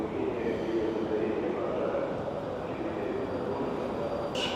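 Steady rumble of a Moscow metro train running through a station, a broad continuous roar with faint voices mixed in beneath it.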